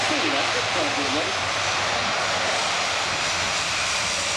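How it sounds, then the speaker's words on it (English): Airliner jet engines roaring on the runway at the Farnborough airshow, a steady loud broadband rush filling the whole clip, with a voice talking over it early on. "When you're observing an airliner like this, or an aircraft like this"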